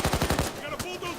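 Rapid automatic gunfire from Payday 2, a burst of about seven quick shots followed by scattered single shots and game effects, loud and close.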